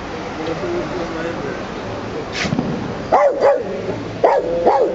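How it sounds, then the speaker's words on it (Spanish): A dog barks several times in short bursts at fireworks, over background voices and outdoor noise, fairly close. "Pepe ladrando porque están tirando cohetes."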